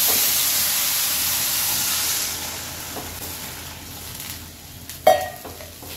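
Water poured onto boiled potatoes frying in a pan gives a loud, steady hiss and sizzle that gradually softens, then a sharp clatter near the end, with no talking.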